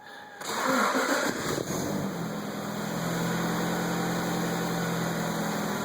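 Honda Prelude Si with an H23a1 engine, automatic transmission and manual ECU, cold, cranks and catches, with a brief flare of revs before settling into a steady, even idle up close.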